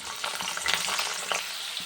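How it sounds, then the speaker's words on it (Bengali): Cauliflower frying in hot oil, a dense crackling sizzle with brief stirring clatter, close and steady, no talking. "ফুলকপিটা একটু হালকা ভেজে আলুটা দিয়ে দিলাম"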